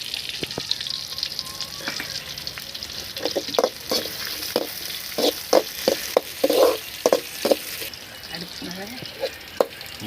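Onions frying in hot oil for a village-style goat head curry, a steady sizzle broken by repeated scraping and stirring clatters of a spoon in the pan, close and clear.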